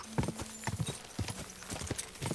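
A horse in a video game runs fast with quick, rhythmic clip-clopping hooves, close and loud, repeated across the whole clip with no talk.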